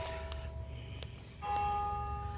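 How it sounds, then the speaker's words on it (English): Cathedral bells ringing near an old Indiana cemetery, sustained ringing tones heard at a distance over steady outdoor background noise, swelling louder toward the end. "You can hear the cathedral bells going off."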